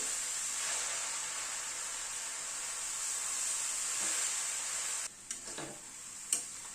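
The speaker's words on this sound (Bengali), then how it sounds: "গাজরটা কিন্তু ভাজতে হয় ভালো করে" Grated carrots fry in a pan for a carrot dessert with a steady close sizzle, then stirring scrapes and a soft clink break in near the end.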